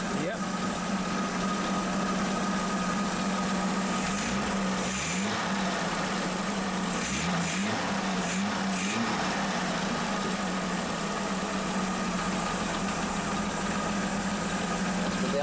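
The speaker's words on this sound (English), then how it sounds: "worked his magic on the triple SU carbs and had it running very sweetly." A 2-litre AC car engine with triple SU carburettors and the air filters removed idles steadily and evenly nearby, a low, continuous rumble that runs throughout the clip.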